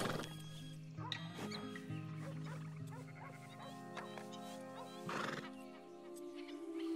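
In a video game, Tennessee Walker, Shire and American Paint horses neigh and whinny while their hooves clip-clop steadily throughout, with layered game audio underneath.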